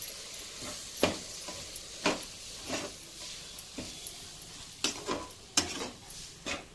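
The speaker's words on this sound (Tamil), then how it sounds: "இப்போ இதெல்லாம் நம்ம நல்லா மிக்ஸ் பண்ணி விட்டுக்கிடுவோம்." Scraping strokes of a spoon stirring a spice mixture with chilli powder in a pan, repeated at an uneven rhythm over a quiet sizzle, no voices.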